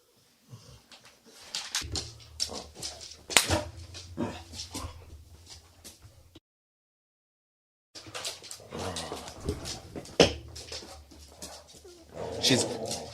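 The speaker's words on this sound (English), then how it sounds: "as you can hear, Roxy's now growling at me" A pet dog barks and growls in bursts at home while a person talks and calls out over it, the dog loud and close with a pause in the middle.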